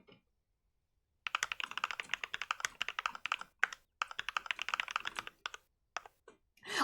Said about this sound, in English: I can confirm Barry has clacky keyboard